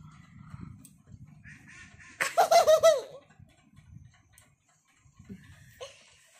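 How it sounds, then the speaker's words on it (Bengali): A short, loud burst of rapid, laugh-like quacking from ducks lasts under a second, then fades to quiet room rustle with faint later noises. "হাঁসের প্যাক প্যাক"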